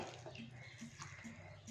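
Water is poured from a tumbler into a cooking pot of salted greens with a little castor oil, a soft continuous splashing trickle, faint and close, with a little background speech.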